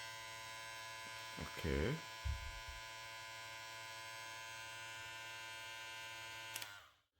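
A JRL 2020c hair clipper runs at its second speed with a steady, close electric hum and buzz that cuts off near the end, briefly overlapped by a short spoken word.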